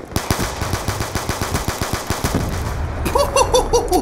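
Rapid bursts of gunfire from the video game Black Ops 2 crack out loud and close in a steady rhythm, then switch to a quicker, more metallic volley near the end, with no talk over it.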